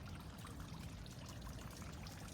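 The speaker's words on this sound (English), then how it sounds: "the water is coming from in there" Water pouring and trickling into a drain in a Las Vegas park, a steady, fairly quiet broadband splashing flow that continues without a break.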